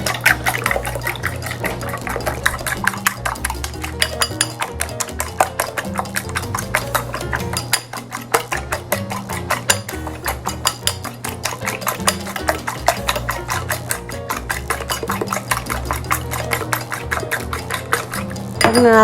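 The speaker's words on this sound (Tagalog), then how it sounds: "Scramble natin yung 2 itlog." Two eggs are beaten in a bowl, a fast steady run of utensil clicks against the bowl that continues loudly and evenly throughout, with no talking.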